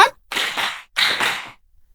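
A classroom of students claps together in a counting rhythm game: two short, sharp bursts of group clapping separated by a brief silence, loud and close.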